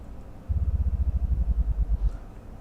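Deep sub bass layer of a dubstep bass patch built in the Serum synth, a steady low rumbling tone with a throbbing pulse, sounding alone for about a second and a half before cutting off.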